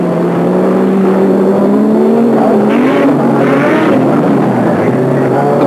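Audi Quattro Sport 700 bhp rallycross car at a 1987 international event at Croft circuit, turbo engine droning loud and close with rising and falling pitch, a high wastegate whistle and chirrups threaded through the roar.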